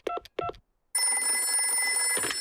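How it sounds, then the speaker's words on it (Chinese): A telephone in a Peppa Pig cartoon is dialed with two short key tones, then a continuous ringing tone sounds for over a second, with no talking. "我马上打个电话给棕熊医生"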